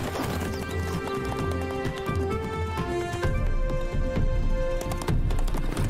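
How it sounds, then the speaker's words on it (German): Cartoon wild horses gallop across a meadow, a rapid, steady clip-clop of hooves close by with a neigh mixed in. "Ich liebe es, Wildpferde zu beobachten."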